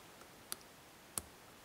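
Two small, sharp clicks about two-thirds of a second apart as the pins of an Enoch padlock are set while it is picked, faint and close against a quiet background with no talking.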